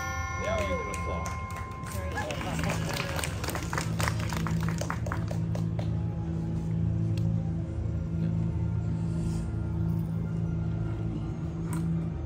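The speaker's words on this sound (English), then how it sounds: "Now you can applaud." Audience applause and scattered cheering at a live show in the Avengers Campus theme park, starting after a stretch of talk and holding as a steady crowd clapping wash over a low rumble.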